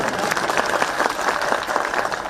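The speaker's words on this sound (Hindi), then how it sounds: "पुरुष भाई ताली बजाओ आप लोग" Dense, steady applause from a large crowd at an outdoor Himachal Day rally in Dalhousie, continuous clapping filling the whole stretch at a fairly loud level with no voice on top.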